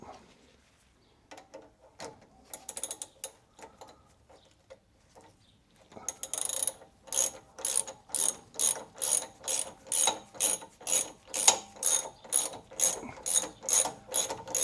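A ratchet tightening drop link nuts on a Jaguar XK8 V8 GT, starting with scattered clicks and shuffling, then a steady run of loud, rhythmic ratcheting strokes, close up and without talk.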